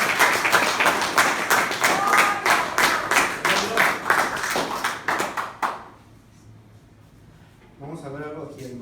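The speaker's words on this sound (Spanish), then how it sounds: "Cuando le ponen una fuerte aplauso al Señor" A church congregation claps loudly and steadily for several seconds, the applause then fading into a quiet pause before a voice begins speaking.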